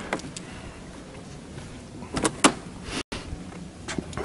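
Rear doors of a box truck converted to an RV are opened, giving a few metallic clunks and latch rattles with a brief scraping swing midway, close up against a quiet background.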